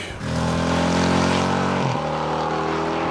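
A Harley-Davidson Road King motorcycle engine rumbles loudly and steadily up close, a deep continuous drone with a brief dip in pitch partway through.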